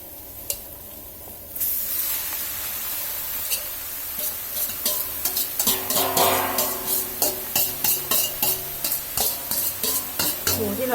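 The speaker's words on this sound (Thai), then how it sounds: "แล้วก็ใช้หมูลงไปผัดเลยค่ะ" Pork stir-fried in a hot pan for larb, a loud sizzling hiss that bursts up when the meat goes in, followed by a steady run of rhythmic spatula scrapes and clanks, close and without speech.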